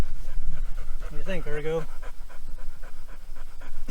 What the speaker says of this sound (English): so don't let his panting fool you